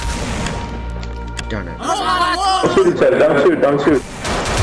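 Gunfire and impact bangs from a Half-Life 2 Deathmatch game play under excited speech, with sharp shots and booms mixed with a player's voice.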